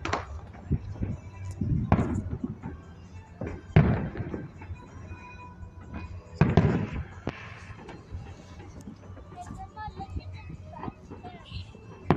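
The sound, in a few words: fireworks exploding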